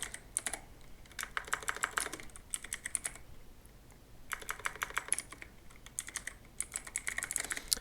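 Rapid typing on a computer keyboard comes in several bursts of dense clicking separated by short pauses, close and fairly loud over a faint steady background hum.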